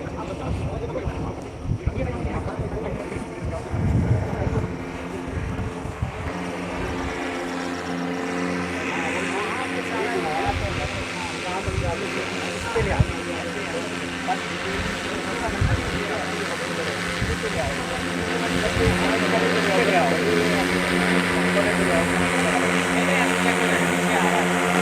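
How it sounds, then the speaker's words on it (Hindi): Agricultural spraying drone carrying about 20 litres hums and whines steadily overhead as it flies down over an apple orchard, a loud continuous rotor drone with shifting pitch and some wind and background noise throughout. "ये ड्रोन नीचे की तरफ आता हुआ"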